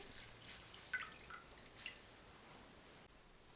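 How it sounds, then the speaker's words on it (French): Cooked rice vermicelli drained in a kitchen, faint scattered drips and light trickling water, quiet and close with no talk. "J'égoutte les vermicelles."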